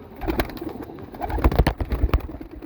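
Pigeons coo close by in soft, throaty bursts, several overlapping calls repeating over a couple of seconds.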